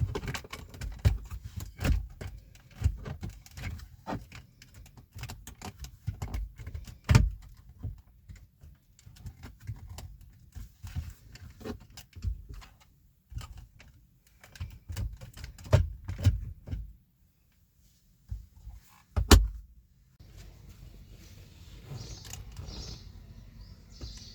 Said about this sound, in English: You will hear the sound of the plastic clips releasing as you go